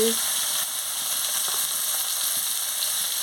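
Steady loud sizzle of vegetables frying in a pan with salt and chilli powder for a Bengali fish curry of brinjal, potato, carrot and beans, continuous hiss with faint stirring underneath.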